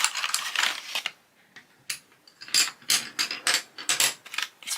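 Crayola crayons clatter and rattle as they are tipped out of a cardboard box, a burst of tumbling, a brief pause, then more scattered clicking bursts.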